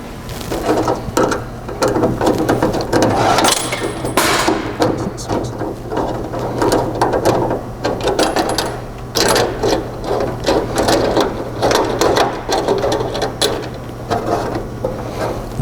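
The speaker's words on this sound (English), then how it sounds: "You want to start threading the screw in so that we can tighten these bolts up." Screws are driven in to fasten a bug shield on a truck, producing a close, busy series of ratcheting clicks and mechanical whirring with a steady low hum throughout.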